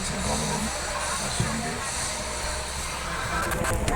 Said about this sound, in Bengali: এখন ট্রেনটা লখনৌ স্টেশনে ঢুকছে।